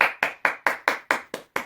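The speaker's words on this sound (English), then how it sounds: "Let's give Bee a big clap" Children clap after a birthday song, eight crisp, evenly spaced claps in a steady rhythm, close and moderately loud, with no talking.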